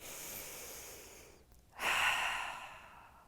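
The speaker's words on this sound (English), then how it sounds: "Deep inhale, exhale." Deep breathing during a yoga session, a soft drawn-in breath, a brief pause, then a longer, louder exhale heard up close and alone.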